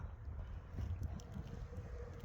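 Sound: wind blowing outdoors

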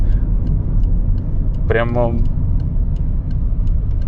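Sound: Subaru Impreza engine while driving

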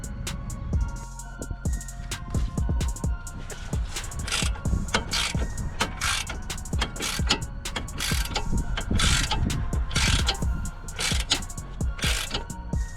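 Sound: socket wrench unscrewing Nissan Qashqai stabilizer link nut

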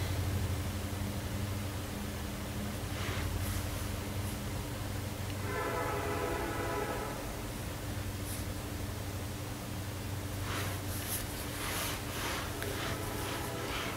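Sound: train passing

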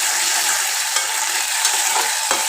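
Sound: frying ponnaganti greens with ginger in a pan

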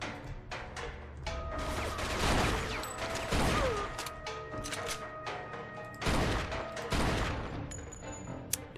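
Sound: gunshot in a video game

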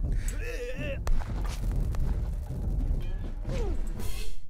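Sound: fireworks explosions in video game Totally Accurate Battle Simulator

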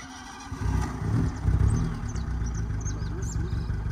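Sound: Fiat Uno car engine idling and stalling

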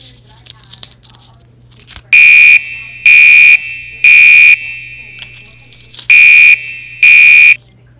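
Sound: Gentex Commander horn strobe fire alarm sounding during system test

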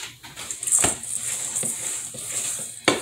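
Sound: stirring cookie dough with an IKEA spoon

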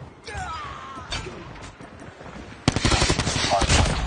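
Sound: Cordite gunfire in Call of Duty Mobile video game

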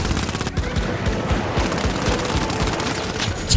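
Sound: sentry turrets firing in video game The Finals

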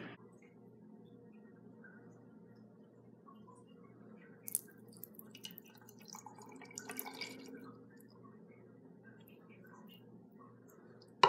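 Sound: excess water being dumped out of an Orbeez bag

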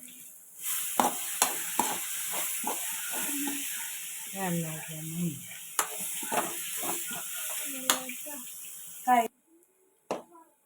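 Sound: curry leaves and tomato sautéing in a pan for chicken curry

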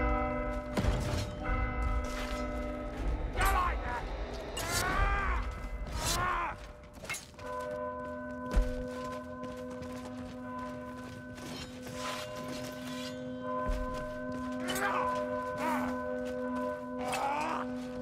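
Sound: bell ringing in video game Warhammer Vermintide

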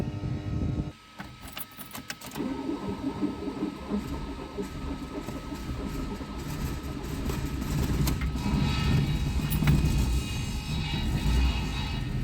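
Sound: VAZ 2109 starter cranking hard on a weak battery

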